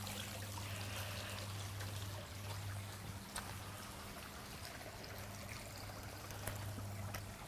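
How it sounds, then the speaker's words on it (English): A babbling brook flowing through a ravine, a soft continuous trickle and gurgle of water with small bright splashes, heard fairly quietly and alone. "Bubbling, babbling brook."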